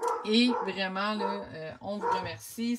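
A dog barks and yips inside a house, its sharp calls mixed in and partly covered by a woman's steady French speech throughout.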